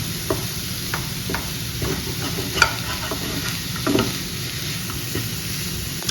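Chicken crepe filling stirred in a pan over low heat, a steady soft sizzle with scattered scraping and clinking spoon strokes, close and moderately loud, no voices.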